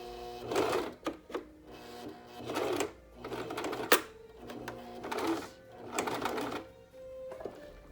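A sewing machine stitching fabric for a face mask runs in short bursts of rapid mechanical whirring, stopping and restarting about five times, close and fairly loud with brief pauses between runs.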